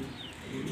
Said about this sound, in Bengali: ব্ল্যাক কালার নর কবুতর, ব্ল্যাক কালার মাদি, নাম হচ্ছে এক্সিবিশন